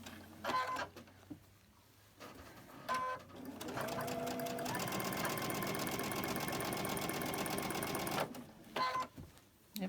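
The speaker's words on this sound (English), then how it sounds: "So I'll just use my sewing machine" A domestic sewing machine stitching quilt blocks runs in a steady fast whirring burst of several seconds, bracketed by short starts and stops, close and fairly quiet against a soft room background.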